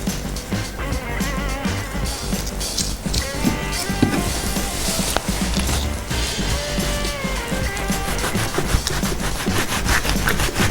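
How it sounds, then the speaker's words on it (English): A knife saws and scrapes through a fish with its head removed, cutting it into fillets in close, rhythmic rasping strokes that continue steadily throughout. "now the head is off, so I'm going to cut in fillet"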